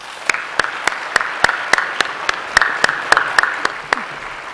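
Scattered audience applause at a Goldschmidt geoscience conference plenary, sharp individual claps at a fairly regular rhythm in a large hall, sparse rather than a dense ovation.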